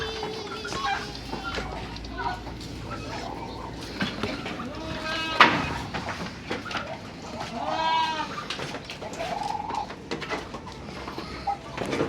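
Goats bleating on a farm alongside pigeons cooing and other farm birds, several wavering bleats rising over a busy, moderately near backdrop of animal calls, with some talking mixed in.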